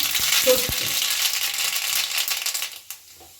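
Lentil dumplings and a dried chilli broken in two frying in a wok, a busy sizzle with a few clinks and stirring knocks that fades out near the end.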